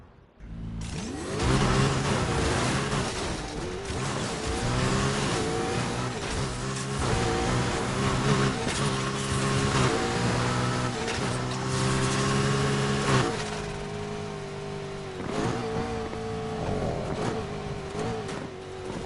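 Race cars in the Need for Speed Heat game revving hard through repeated gear changes, the engine pitch climbing and dropping over and over, with occasional tire squeal and no talking.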